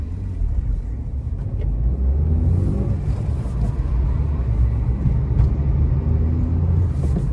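A car pulling away in first gear, with a low, continuous engine rumble that builds gradually and holds steady as it moves off.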